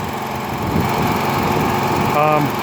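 A home backup generator engine runs steadily at a constant drone, loud and close, with a brief tonal whine near the end and no talking.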